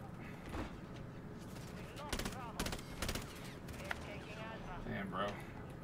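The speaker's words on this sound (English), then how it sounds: "I'm shooting dudes, and, like, the shots aren't going on them." Rapid bursts of gunfire in a shooter video game, sharp repeated shots in short volleys under a player's ongoing chatter.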